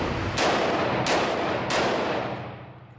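Three loud bursts from a toy gun, each a sharp crack with a decaying tail, spaced roughly evenly over about two seconds, close up with no talking.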